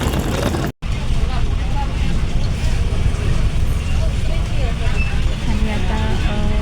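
Inside a moving ST state transport bus, a continuous loud engine and road roar with rattling, chatter from passengers and a brief dropout near the start.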